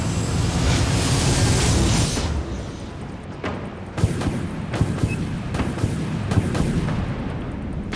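Incoming enemy missiles explode in the naval combat game Dreadnought: a heavy rumbling barrage, then a string of sharp, loud booms and impacts spaced a second or so apart.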